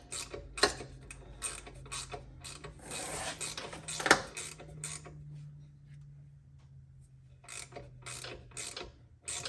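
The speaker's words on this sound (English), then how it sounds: "screw them out with a socket" A socket ratchet works loose an old brake line fitting with a 7/16 socket during rear brake drum work, giving several close clicking and creaking bursts with quiet gaps between them.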